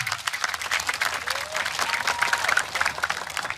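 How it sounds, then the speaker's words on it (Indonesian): A crowd at a religious sholawat gathering in Indonesia claps in sustained, dense applause, with faint voices and whistles mixed in. "Hadirin bisa berikan aplaus yang meriah."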